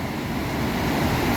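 Victoria Falls, on the Zimbabwe side, sends up a loud, continuous roar of falling water, a steady broadband rush heard from close range with no pauses.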